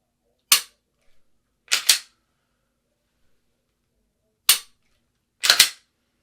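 Pistol shots ring out at shooting practice, four to five sharp, loud reports spaced irregularly, two of them in quick doubled pairs, with silence between.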